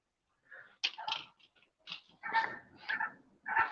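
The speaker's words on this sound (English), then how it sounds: "That's a dog." A dog gives a run of short, close vocal bursts in irregular clusters, alternating louder and softer yelps with brief silent gaps between them.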